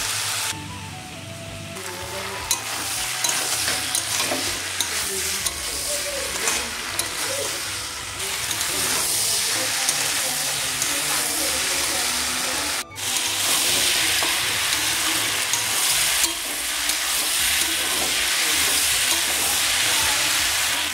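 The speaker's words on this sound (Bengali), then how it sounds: "এখন এই শিমের বিচির মধ্যে আমি ভেজে রাখা মাছের মাথাটা দিয়ে দেব।" A pre-fried fish head is stirred into bean seeds in a hot pan, giving a continuous loud crackling sizzle with scraping and clattering stirring sounds throughout and a brief gap partway through.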